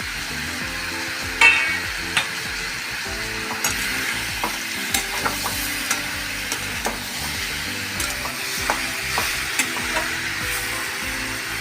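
Cashews and peanuts frying with tomato masala in a pan for dhaba-style shahi paneer: a steady close sizzle and hiss with frequent light scraping stirs of a spoon.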